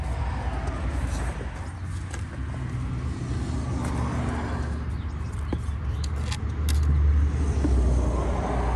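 A 1987 Volkswagen Vanagon Syncro Westfalia runs and drives after long storage, its engine and road rumble steady from inside the cabin, swelling louder near the end.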